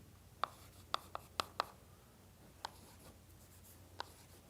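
Chalk or marker on a board during a mathematics lecture, heard as a series of sharp, close taps and short strokes in irregular bursts, then a pause and a few more marks.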